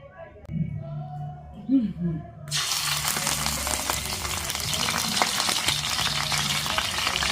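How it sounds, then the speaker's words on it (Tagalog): Chicken frying with garlic, white onion and red onion in a pan: a quiet start with a voice talking, then a loud steady sizzle kicks in and continues with faint stirring underneath. "Prituin lang pala natin to until po medyo mag-light golden brown"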